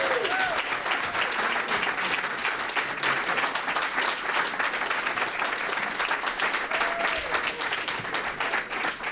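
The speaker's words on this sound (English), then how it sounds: "Give her another round of applause" Sustained, dense applause from an audience at a Pride celebration hosted by the state comptroller, continuous and steady throughout, with faint cheering mixed in.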